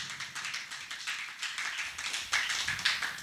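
A church congregation claps and acclaims for Jesus Christ, a moderately distant wash of clapping that swells toward the end.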